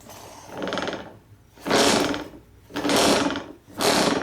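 A repaired moving dolly wheel spins freely in four separate whirring bursts, each rising and fading with a rattling, ratchety mechanical texture, close and fairly loud.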